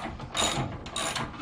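A ratchet clicks rapidly and loudly up close, working 16 millimeter bumper bolts loose on a Datsun 510, in two short bursts separated by a brief pause.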